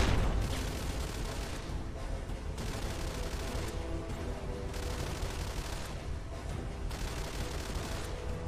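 Rapid turret gunfire in Fallout: Tale of Two Wastelands, a steady barrage of overlapping shots and booms that fills the whole stretch at loud, constant intensity with no pauses.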